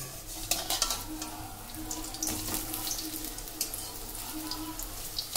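Potato fritters and eggplant beguni fry in hot oil, a dense, crackling sizzle with sharp pops and bubbling, close and steady throughout with no talking.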